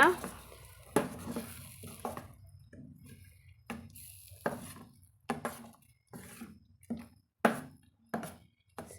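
Ground tomato paste being stirred in a pan for tomato pickle, with a series of separate spoon scrapes and knocks against the pan, spaced irregularly and fairly close.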